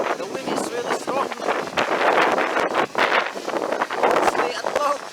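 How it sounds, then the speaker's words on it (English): Strong gusty wind buffets a microphone outdoors during a DJI Mini SE drone test flight, a loud continuous roar with surging gusts, while people talk over it. "The wind is really strong."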